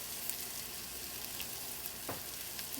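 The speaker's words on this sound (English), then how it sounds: "Just add that and give it a stir" Pork fried rice sizzling in a hot pan as scallions and ginger are stirred in, a steady faint crackle with a brief scrape of the utensil partway through.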